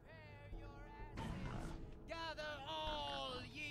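Pigs in Wasteland 3 squeal and grunt in a busy fight, with high harmonic squeals rising and falling over a steady, dense backdrop of game noise.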